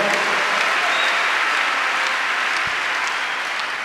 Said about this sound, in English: Give Jesus a wonderful clap of him.